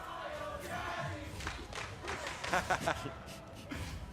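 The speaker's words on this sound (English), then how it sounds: "Some applause for Bio Daddy" Crowd noise with scattered clapping and cheering rising from an arena audience at a League of Legends esports match, busy and sustained, with a few sharper bursts of applause partway through.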